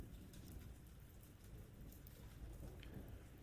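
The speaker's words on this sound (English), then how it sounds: "is the sound of the storm before you" Steady rain pours in a storm, a dense close hiss with scattered drop patter and a low rumbling undertone, continuous throughout.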